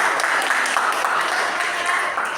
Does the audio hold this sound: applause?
yes